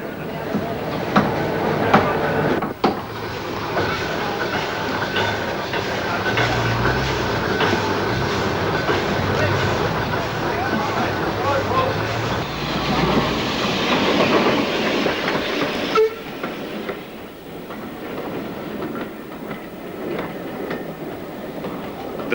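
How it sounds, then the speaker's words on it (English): A pannier steam tank locomotive rolls past with rhythmic clickety-clack of wheels over rail joints, loud and close, then fades as the train moves away. "The first train returns with the guest loco, the pannier from Tyseley."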